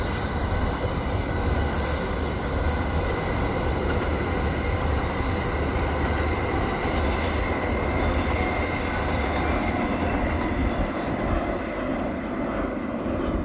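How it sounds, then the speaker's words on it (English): A train rumbles past continuously, a loud, steady low roar of rolling wheels with faint metallic squeal, no pauses throughout. "Hold up, the train passing by."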